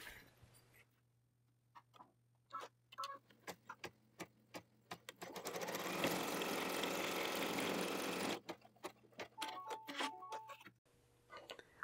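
An embroidery machine stitching a polar fleece mini stocking gives off a few seconds of steady whirring, with light ticks and clicks of handling before and after, all fairly quiet.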